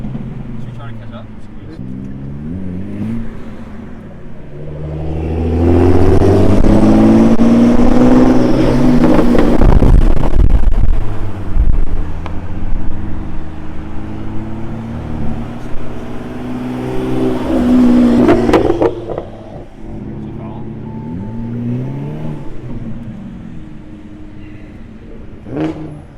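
A Hyundai Elantra N accelerating hard on a highway, its engine rising to a loud sustained roar before easing off, with people talking inside the car over it.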